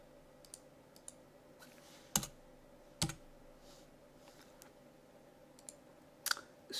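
Keys pressed on a computer keyboard for a paste shortcut: a handful of crisp, separate clicks spread over a quiet background, two firm presses close together and another later.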